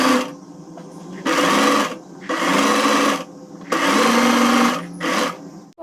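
A sewing machine stitches a blouse lining to its main fabric in four loud, steady whirring runs, each a second or so long, separated by short pauses as the fabric is turned, with no talking.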